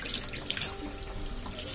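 Tap water runs steadily into a kitchen sink while paneer is being washed, a faint continuous splashing hiss with small drips and no talking.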